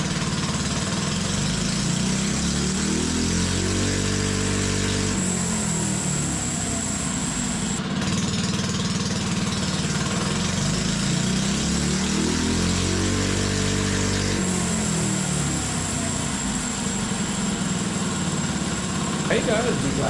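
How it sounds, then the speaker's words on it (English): Massimo MB100 79cc mini bike engine run on a dyno, loud and steady throughout with two rising rev sweeps whose pitch climbs and falls back, a continuous buzzing single-cylinder drone. "Mb100 on the dyno back here, little 79cc mini bike"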